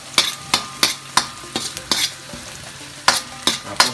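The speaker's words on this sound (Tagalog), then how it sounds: "Ayan, sinalang ko na yung sibuyas" Onion sautéing in a pan, a background sizzle broken by about a dozen sharp, regular scrapes and clacks of a spatula stirring, loud and close.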